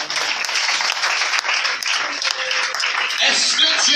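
Congregation at a church service applauding to acclaim the Lord, with dense sustained clapping from many hands filling the room and voices cheering over it.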